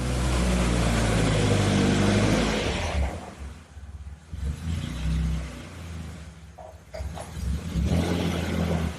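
A Caterham's engine running as the car is turned around in a garage: a loud, close rumbling idle that swells and dips with throttle blips, echoing off the walls, with no talking.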